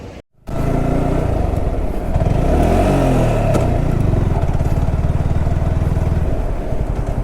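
A motorcycle pulls away on a night ride on the road from Mayiladuthurai to Coimbatore, its engine loud and close, rising in pitch as it accelerates and then holding a steady drone with clattering mechanical noise.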